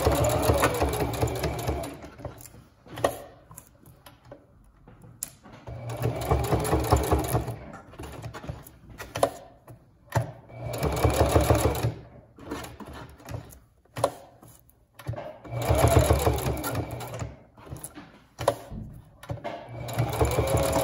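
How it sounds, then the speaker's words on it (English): A domestic sewing machine runs in repeated bursts while stitching around the four edges of a notebook cover, each run a steady close whir separated by short pauses. "And then I'm going to sew around all four edges."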